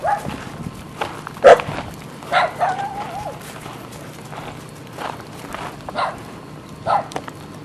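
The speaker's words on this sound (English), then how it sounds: "A little dog." A small dog barks in short, scattered bursts at the Palm Springs dog park, mid-distance, amid footsteps and open outdoor ambience.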